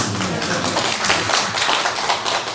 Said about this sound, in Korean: 그걸 박수 한번 치시죠